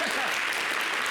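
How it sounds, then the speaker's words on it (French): A studio audience on a French-language TV variety show applauds steadily, a dense even wash of clapping over a short stretch. "Zoko, on applaudit pour lui."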